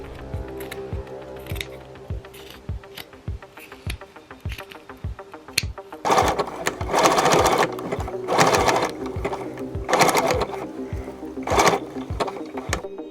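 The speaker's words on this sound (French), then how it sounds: "j'ai tout fixé au point zigzag malgré les sequins" A sewing machine zigzag-stitches sequins onto velvet, first a quieter run of evenly spaced needle thumps, then several loud bursts of fast rattling stitching separated by short pauses.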